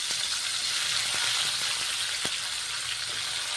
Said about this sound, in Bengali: তেল গরম হয়ে গেছে ঝিঙ্গেগুলো ভেজে নিচ্ছি